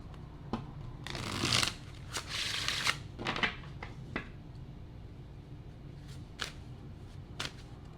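Tarot cards shuffled by hand in a quiet room, with several short riffling bursts early on, then sparser single card snaps and slides, close and fairly soft.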